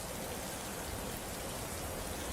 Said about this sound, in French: l'orage vient de se déclencher. Et ça pleut à torrent